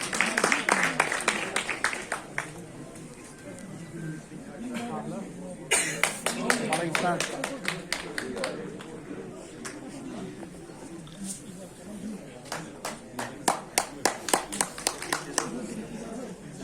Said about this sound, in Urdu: زور سے ان کے لیے تالیاں.